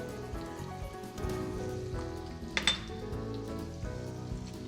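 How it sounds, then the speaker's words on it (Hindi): Spices with chopped garlic and finely crushed ginger crackle in hot oil, a steady dense sizzle with scattered pops and one brief sharper burst near the middle, no voices. "आप देख सकते हैं कि आवाज़ आ रही है, यानी मसाले अच्छे से चटक रहे हैं।"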